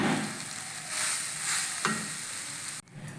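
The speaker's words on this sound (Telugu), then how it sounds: "పచ్చివాసన మొత్తం పోయేదాకా వేయించుకొని తర్వాత ఉడికించిన రైస్ అయితే దీంట్లో వేసి కలిపేసుకోవాలి" Cooked rice stirred into fried curry leaves in a pan gives a continuous close sizzle with soft scraping stirs and one sharp knock before the frying abruptly drops away.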